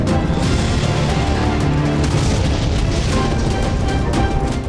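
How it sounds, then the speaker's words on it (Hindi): Missile blasts from a Russian UR-77 system in the war in Ukraine come through as a dense, loud, continuous roar of booms and crashing rumble, heavy and saturated throughout with no pauses. "ये रूस के रशियन UR-77 सिस्टम से चली मिसाइल का धमाका है।"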